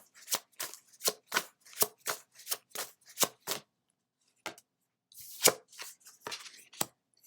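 Oracle cards from the Cosmic Journey deck are shuffled by hand, a run of crisp, evenly spaced riffling snaps, a short pause, then a few more irregular flicks and taps, close and fairly quiet with no talk.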